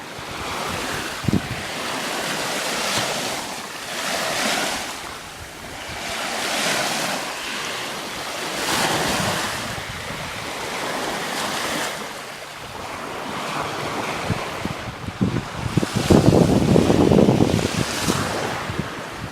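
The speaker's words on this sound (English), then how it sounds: "Walking down the beach." Surf on a beach rolls in and washes out in repeated surges while wind buffets the microphone, louder gusts toward the end, with no talk.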